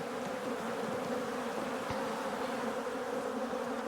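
Honeybees buzzing at an opened hive during a hive split, a dense, steady swarm drone close by with individual bees zipping past, no voices.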